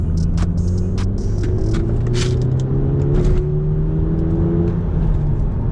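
An Audi TTS pulling hard in third gear from 30 to 60 mph, its engine a steady loud throbbing hum whose tones climb gradually as the car gains speed, heard from inside with no talking.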